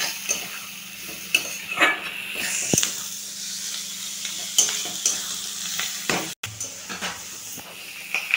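Fried potatoes and beans with fish roe being stirred in a wok, hissing and sizzling in oil with steady spatula scrapes and occasional sharp knocks against the metal, close and continuous.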